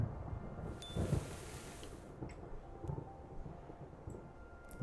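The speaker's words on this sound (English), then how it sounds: "And here I let it rain." Rain falling in the video game Preserve, a soft steady wash with low rumbling and faint wind, quiet and continuous, with a brief brighter hiss early on.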